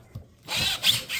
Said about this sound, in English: I just put my screws at an angle because the adhesive will hold it in place.